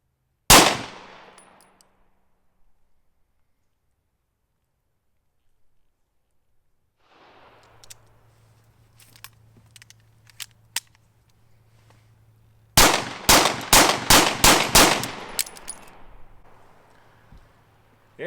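Remington R51 pistol shots, a single loud crack, then a quiet pause with faint clicks and handling, followed by a rapid string of about seven sharp close shots, the last one a malfunction.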